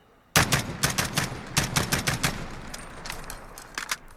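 Rapid, sharp SR-25 rifle shots fired in Call of Duty Modern Warfare, loud and close, about a dozen cracks in uneven bursts that thin out toward the end, with no talking.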